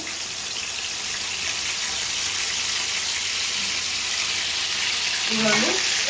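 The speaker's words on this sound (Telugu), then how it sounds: "మంచి కండగల ఎండ్రాయిలు ఇప్పుడైతే ఆయిల్లో వేసేసుకుంటున్నాను" Fresh, meaty prawns frying in hot oil for a prawn and yellow cucumber curry, giving a steady, loud, close hiss of sizzling that runs unbroken throughout, with a brief stirring clatter near the end.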